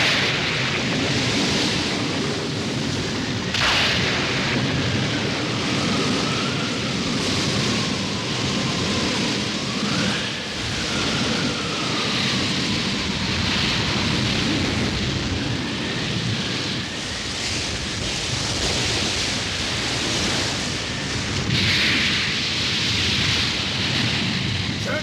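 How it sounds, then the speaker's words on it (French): Storm at sea with steady rain, rolling waves and low thunder rumbling throughout, a dense, continuous wash of noise with no clear single crash standing out. "Tempête en vue, tout le monde à son poste!"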